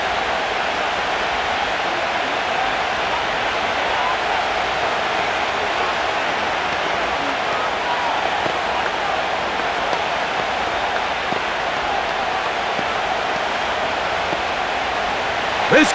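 Stadium crowd in the Madden NFL 25 football game, a steady dense roar of many voices that stays level throughout, with commentary faintly mixed in.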